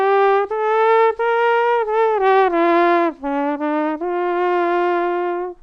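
A brass instrument mouthpiece blown alone gives a buzzy, reedy sequence of sustained pitched notes, loud and close, sliding between pitches in several separate breaths.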